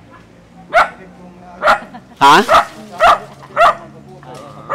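A dog on a bamboo farm barks in a string of loud, close yips and bow-wows, about six sharp barks spaced through the moment, with a brief spoken exclamation between them.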